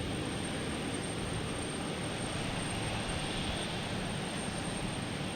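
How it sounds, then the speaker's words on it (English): A JetBlue Airbus A220 jet taking off at Boston Logan produces a steady, distant broadband roar with a faint low rumble and no clear rise or fall, with no voices. "Next to take off is JetBlue, an A220, an Eric Special,"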